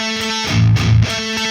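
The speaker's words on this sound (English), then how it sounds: "if we were to play that octave chord there, it'd sound like this" An electric guitar rings out a distorted octave chord of A's, a short sustained strum that swells briefly and then holds, heard alone.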